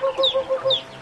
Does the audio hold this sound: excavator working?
no